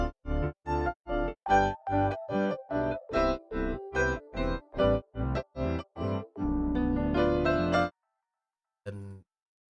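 A chopped beat sample in FL Studio pumps in short, evenly spaced bursts with a sidechain-like ducking effect, then a sustained sample section and a final brief hit after a gap.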